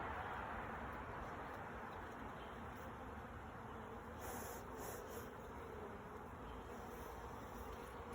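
A start-up honey bee colony buzzes steadily and close during a hive inspection, a dense continuous hum with a few brief brighter bursts partway through; no speech.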